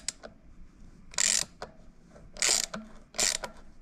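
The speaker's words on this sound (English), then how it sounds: "let's hold the axle on the opposite side and use this to tighten the jam nut past that difficult part on the threads here." Ratchet wrench tightening a jam nut on the axle of a Bafang hub motor, heard as three loud bursts of rapid metallic clicking separated by short pauses, close and with no talk.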